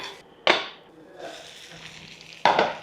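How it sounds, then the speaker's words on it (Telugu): Onions frying in oil in a pan, with a steady soft sizzle throughout and two sharp stirring or scraping clatters near the start and end. "ఫస్ట్ ఉల్లిపాయ వేగుతుంది"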